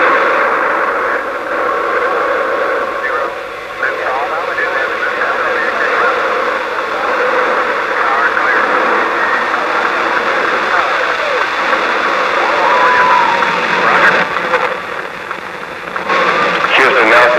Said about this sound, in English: We have main engine ignition.